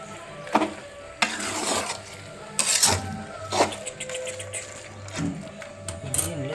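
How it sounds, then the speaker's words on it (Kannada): Black masala for a mutton curry stirred in a pan, with intermittent scraping and clattering strokes of a spoon over a low frying sizzle. "ಬ್ಲ್ಯಾಕ್ ಮಸಾಲೆ ಮಿಕ್ಸಿಂಗ್"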